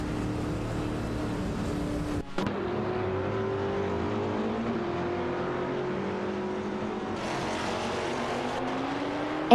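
Race cars, including a Chrysler Viper GTSR and a BMW, roar through an AI race in a racing game, with a steady engine drone and pitch shifts as the cars accelerate and change gears.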